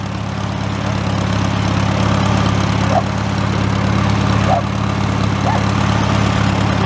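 An antique tractor engine idles and runs continuously with a low, throbbing rumble, close by and fairly loud, with no talking.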